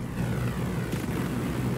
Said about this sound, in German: das Flugzeug ist schneller als wir, das kriegen wir nicht